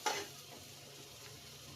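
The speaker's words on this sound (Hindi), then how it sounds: "देखो फ्राई हो गया चावल" Rice being fried with turmeric in a pan, a soft steady sizzle with faint stirring scrapes, quiet and close, with brief louder clatters at the start and end.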